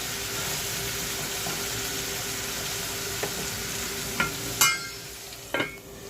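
Food frying in a covered pan gives off a soft, continuous sizzle, with a few sharp clinks and knocks near the end.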